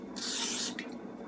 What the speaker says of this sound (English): I'm using this cooking spray here, as you can see.